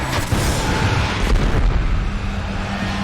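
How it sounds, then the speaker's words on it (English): A loud, booming solar grenade blast in Destiny during the Crota raid, a deep rumbling explosion filling the whole moment with a sharper burst partway through. "Use that grenade."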